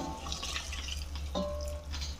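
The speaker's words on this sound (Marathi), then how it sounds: "आता हे गरम पाणी याच्या आता घालायचं याच्यामध्ये" Hot water poured into frying chicken masala in a pan for a Solapuri village-style chicken curry: a brief, soft watery splash and trickle with faint drips, heard close and alone over a low background hum.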